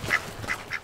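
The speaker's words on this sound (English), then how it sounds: "Meet Oscar, a duck whose hobbies include quacking" A duck quacks three times in quick succession, close and clear, each quack short and nasal with a brief pause between.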